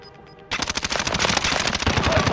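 Rapid automatic gunfire in Call of Duty Warzone on Rebirth Island, a dense, loud burst of machine-gun fire erupting suddenly after a quiet moment and continuing steadily to the end.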